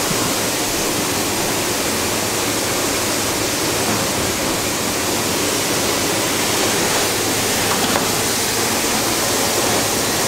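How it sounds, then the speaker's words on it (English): Home renovation machine spraying foam insulation through a pipe, the foam mixing with water, giving a loud, continuous broadband hiss like rushing water, steady and close throughout with no voices. "There's the foam coming out and it's mixing with water"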